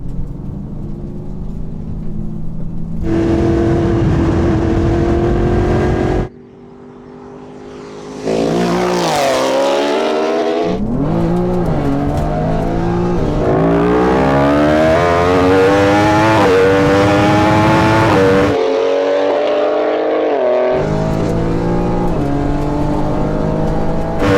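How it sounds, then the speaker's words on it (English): A BMW M3 and a superbike roll race side by side, engines winding up hard through repeated gear changes, loud and close with a brief dip in the middle. "I want you to roll race the M3."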